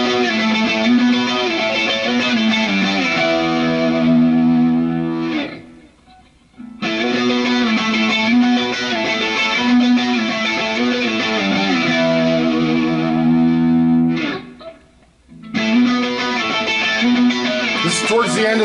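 ESP Mystique electric guitar using both pickups plays through a Strymon Sunset with Texas Overdrive, giving a driven, sustained tone in two long phrases separated by short pauses, loud and close with no talking.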